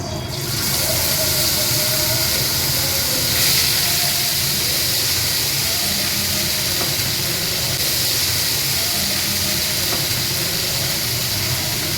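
Ginger, garlic and onion paste hits hot oil in a pan after fish frying, giving a steady broadband hiss and sizzle that runs evenly throughout, close and fairly loud.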